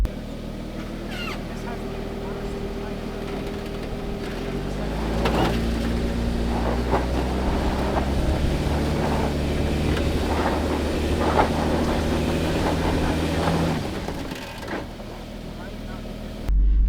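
A Land Cruiser engine drones and strains at low revs while crawling off-road, the tone rising as it works harder in the middle, steady and close with some faint knocks over it.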